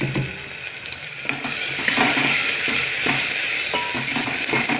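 Chopped onions with curry leaves and vadagam sauté in a hot pan, giving a loud, continuous sizzle with the scraping of a spoon stirring them, close up and with no talk.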